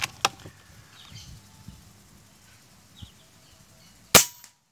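Bullpup Behemoth 5.5 air rifle firing pellets at metal targets outdoors, a few sharp faint cracks and ticks spaced over several seconds, ending with one louder close snap.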